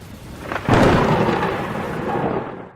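A stormy night at the docks brings a loud, close crack of thunder that rolls into a long, heavy rumble and slowly fades, with no voices.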